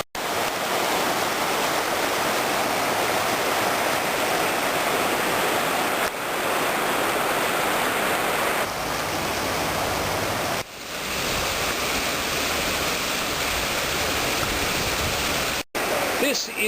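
A river in Okutama, outside Tokyo, rushes in a dense, steady broadband roar that fills the scene for many seconds, with only brief dips in level.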